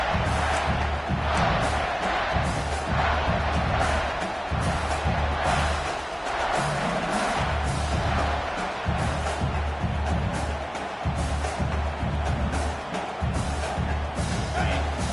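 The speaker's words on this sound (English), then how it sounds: "Listen to this crowd just shaking the girders of this place, trying to help their defense." A packed college football stadium crowd roars during an Arizona State versus Nebraska game, a loud, sustained wall of cheering and shouting that surges and swells throughout to back the defense.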